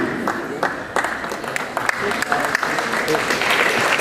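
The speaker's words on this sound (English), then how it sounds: "Once again, ladies and gentlemen, nice round of applause." At a high school wrestling senior night, the gym audience gives steady applause, with sharp individual claps standing out over the crowd. Someone speaks over it at times.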